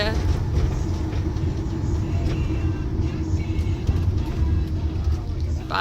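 A loaded cheese truck bound for Bega rumbles steadily past a caravan park in East Gippsland, a constant low engine and road drone with voices talking over it.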